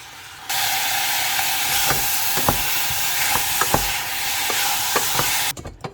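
Meat browning in a hot pan, a loud steady sizzle and hiss that starts abruptly, broken by sharp scraping clicks of stirring, before cutting off near the end.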